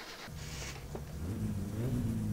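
A car engine in the driving game My Summer Car starts and revs up steadily, a low rising drone that swells and holds, loud and alone.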